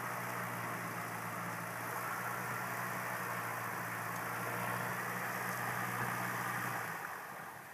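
A Robin DR-400 light aircraft's piston engine runs at a steady idle on final approach, a continuous low drone with a constant hum and broad airy noise, fading slightly at the end.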